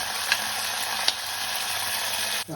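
Onion and curry leaves fry in hot oil in a pressure cooker on the stove, a steady close sizzle with a couple of faint clicks and a soft stirring knock near the end.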